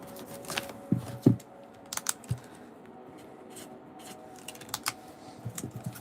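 Scattered quiet keystrokes on a computer keyboard as a card price is changed during a Pokémon card session, a few sharper taps between softer clicks over faint background noise.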